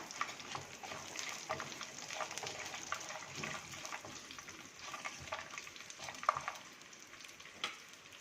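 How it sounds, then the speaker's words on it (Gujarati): Dried red chillies and garlic cloves fry in hot oil in a pan for a dhokla tempering, giving a soft, steady sizzle with scattered crackles and light stirring scrapes, faint and close by with no voices. "એમાં નાખીશું 2 સૂકા લાલ મરચાં, લસણને કળીઓ. એને આપણે સોતળી લેશું."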